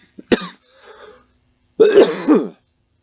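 A few harsh, raspy coughs: a short burst first, then a longer, rougher bout after a brief pause, close to the listener.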